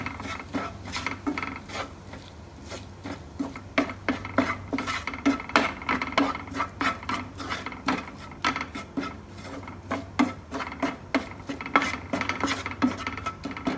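Ground turmeric, pepper, coriander and garam masala sauté in a pan, heard mostly as quick repeated metallic scrapes and clacks of a spoon against the pan over a faint background hiss.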